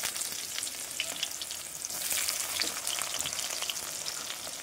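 Chopped onions and tomatoes frying together in a pan with whole spices and a bay leaf, a steady close crackling sizzle with light stirring throughout.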